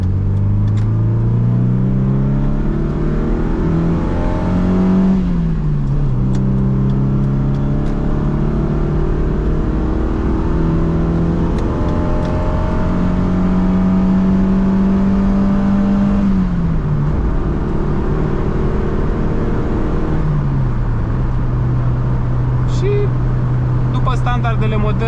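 A naturally aspirated BMW 3 Series engine drones steadily at cruising speed, its pitch climbing and then dropping with each gear change, under a constant road hum and possible talk.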